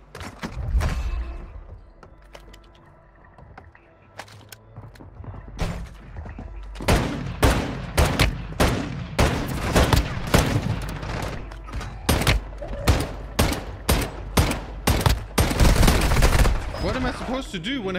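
Repeated gunshots from the Warzone Mobile video game, a slow-firing gun sounding in sharp separate bursts, loud and near, with a quieter start and denser firing toward the end.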